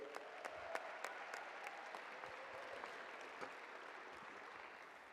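An audience at a university athletics stole ceremony applauds Tim Healy with steady, fairly distant clapping and a few sharper individual claps standing out, with no speech.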